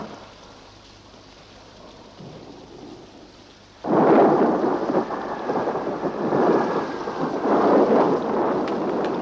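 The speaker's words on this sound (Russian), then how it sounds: "Какой дождь!" A low, quiet hum gives way abruptly to a loud downpour of heavy rain with rumbling thunder, which keeps swelling and pulsing to the end.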